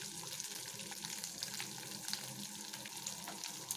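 Chana dal, urad dal, curry leaves, coriander and dried red chillies sautéing in hot oil give a faint, steady crackling hiss that runs the whole time, with no talking.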